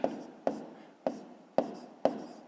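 Numbers being written by hand for a fifth-grade maths exercise make five evenly spaced, crisp pen-on-paper strokes, close and distinct, each fading quickly.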